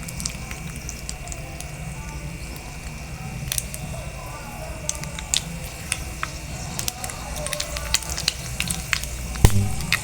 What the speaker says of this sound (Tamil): இப்போ கடுகும் வெந்தயமும் பொரிஞ்சிட்ருக்கு பொரியட்டும்